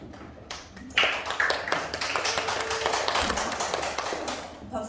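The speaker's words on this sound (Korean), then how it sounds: "박수 쳐주셔서 감사합니다" Audience clapping at the opening of a nutrition lecture, a burst of many hands starting abruptly and continuing steadily at moderate loudness through the rest of the moment.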